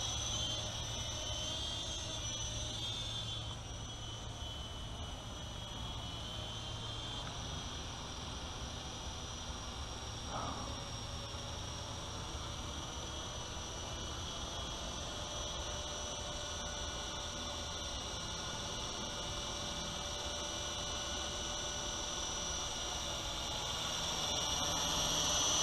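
A UDI U12A remote-control toy helicopter flies outdoors, giving a constant thin, high motor whine that holds steady for the whole stretch at moderate volume, with no talk.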